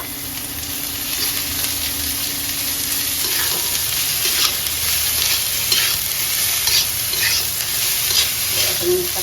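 Radish greens frying in oil in a pan, giving a dense, steady, loud sizzle with soft stirring scrapes, close up and without talk, under a constant high-pitched background tone.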